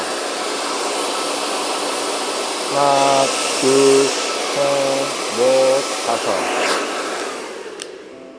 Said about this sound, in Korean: 먼저 이 드라이기 켜시게 되면요